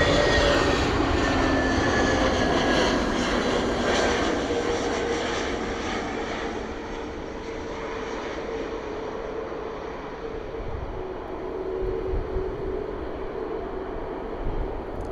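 A fixed-wing airliner lands on runway 27 at Bristol Airport, a loud, steady engine roar that fades gradually as it passes, with wind rumbling underneath.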